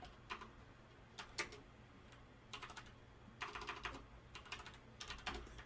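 Quiet bursts of keystrokes on a computer keyboard as C code is typed, with irregular clusters of clicks and brief gaps over a faint background hum.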